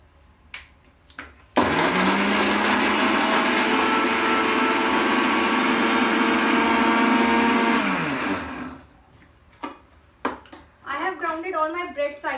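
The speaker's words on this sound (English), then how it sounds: "I'll just grind all my 4 bread slices." A kitchen blender grinds four bread slices into fine crumbs for an eggless bread caramel pudding. It is a loud, steady motor whir lasting several seconds before it winds down, with a few clicks and clatters before and after.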